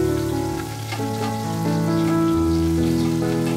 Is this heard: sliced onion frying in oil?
yes